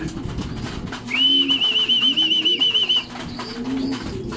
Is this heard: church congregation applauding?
no